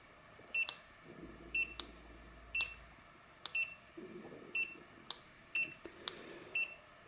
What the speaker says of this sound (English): the reason for the beeping was basically that the scooter hadn't been activated